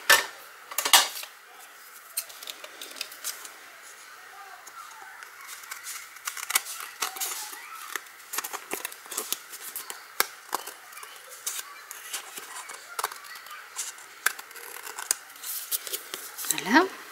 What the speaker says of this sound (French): Je vais couper l'excédent.